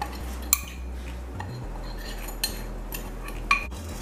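A utensil stirs spices into a pot of saijan bhaji, with a few sharp metallic clinks against the pot over a low steady hum, close and fairly quiet.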